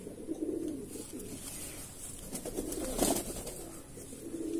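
Andhra Madrasi pigeons cooing softly in a loft, low rounded coos repeating through steady background noise with no voices.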